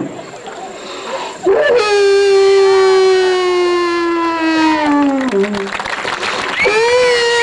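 A voice on a hypnotism stage show mimics a dog's long mournful howl, one sustained wavering note slowly falling in pitch, followed by a shorter rising howl.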